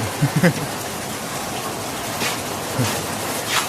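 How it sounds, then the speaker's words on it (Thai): Steady hiss of rain falling in sunshine, with a few soft knocks and faint indistinct sounds mixed into the wash. "ฝนตกแดดออกครับ"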